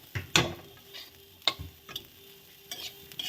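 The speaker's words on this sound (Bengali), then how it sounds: "একটা পার্ট বন্ধ করা হলো জানলার, তার আওয়াজ হচ্ছে" Part of a window being shut in a home kitchen during cooking, heard as a few sharp knocks and clicks spread across a few seconds, fairly faint against quiet room tone.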